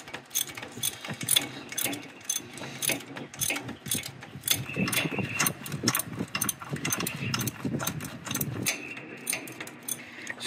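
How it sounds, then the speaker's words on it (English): Repeated ratcheting clicks from a wrench loosening 12 mm bolts on a TYM 2515 tractor during a dual rear remote kit install, a steady close mechanical rattle with metallic jingles and no talk. "So we loosen these two up so it would make it easier to mount the lower brackets"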